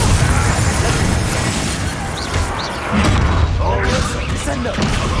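A Confringo fire spell bursts in Hogwarts Legacy, a loud rumbling blast layered with mechanical creaks and crackles, dense and close, with a voice speaking over part of it.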